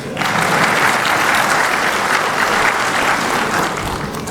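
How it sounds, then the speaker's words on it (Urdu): Audience applause fills a hall during a speech by the President of Pakistan at an Islamabad Chamber of Commerce and Industry (ICCI) gathering, a loud, dense, steady clapping that continues without a break for the whole stretch. "یہ عورتوں سے تالی نہیں چاہتا ہوں، میں مردوں سے چاہتا ہوں."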